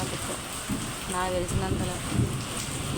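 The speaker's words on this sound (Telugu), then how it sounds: "వినపడుతుందా శబ్దాలు ప్రజెంట్ ఒక రెండు పిడుగులనే పడి ఇక్కడ" Steady heavy rain hisses throughout a night storm while someone speaks over it, with faint low rumbles of thunder underneath.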